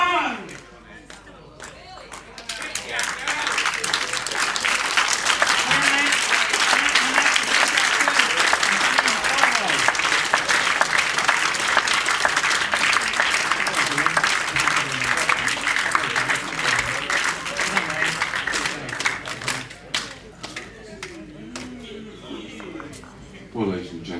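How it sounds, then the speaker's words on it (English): Sustained audience applause and clapping for four players at a live Superbowl session, a loud dense wash that builds and holds steady for most of the stretch before tapering off, with some voices in the crowd. "let's give all four players another massive round of applause"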